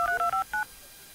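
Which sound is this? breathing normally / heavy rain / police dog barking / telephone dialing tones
telephone dialing tones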